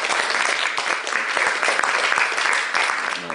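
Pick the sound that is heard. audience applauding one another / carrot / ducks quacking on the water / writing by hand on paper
audience applauding one another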